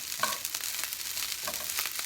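Fried rice is stirred in a hot pan, a soft continuous sizzle with a few light scraping taps of a spatula, quiet and close, with no voices.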